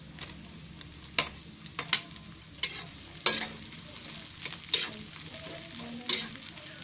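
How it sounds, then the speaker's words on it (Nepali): Bell pepper and reddened onions frying in a pan, giving a steady sizzle broken by repeated scraping stirs, close and clear with no talk. "अब यसमा म भिन्डी खुर्सानी हाल्छु।"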